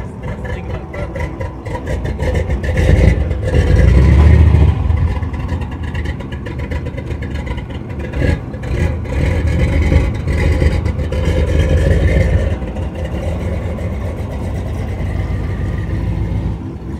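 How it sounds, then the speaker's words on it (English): A Corvette's engine rumbles at a steady idle, climbing into a louder rev swell early on and another smaller rise later, then settling back, heard close and alone with no talking. "You gotta give it gas when you start it up."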